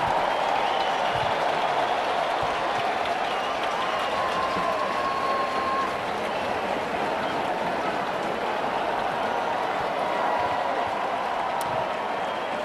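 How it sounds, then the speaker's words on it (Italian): Crowds packed into Piazza del Campo in Siena, filling the stands, terraces and windows, applaud the Palio historical parade. A dense, steady wash of clapping rolls on unbroken for the whole stretch, broad and somewhat distant. "Ecco l'applauso di tutte le persone presenti già all'interno di Piazza del Campo, sui palchi, sulle terrazze, sulle finestre"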